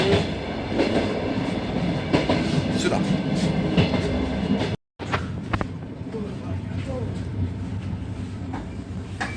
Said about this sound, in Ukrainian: О, ще одна електричка. До Чернігова.